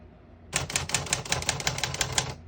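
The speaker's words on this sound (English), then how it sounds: "Keep it on single for now and finish typing." Rapid clacking keystrokes from a 1977 Underwood 319 portable typewriter, about a dozen crisp, close strikes in a steady rhythm, with no voices.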